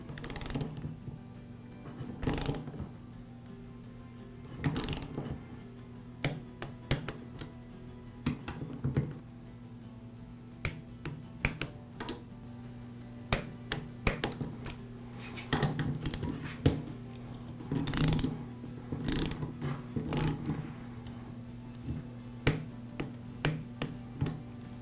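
A torque wrench tightens the cylinder head bolts of an air compressor in a crossing pattern, giving close, sharp clicks and ratcheting in irregular bursts over a steady low hum.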